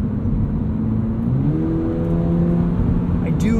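The flat-four engine of a 2022 Subaru BRZ with an automatic transmission accelerates in sport mode, heard from inside the cabin. A steady low drone climbs in pitch as revs build and then holds, with road noise underneath.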